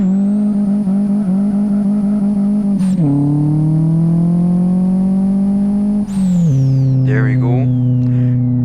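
Simulated Saveiro 1.6 single turbo engine in the Live for Speed racing game revs loudly and holds high, dropping sharply with each gear change at about three and six seconds, then climbing again, with a turbo whine on top.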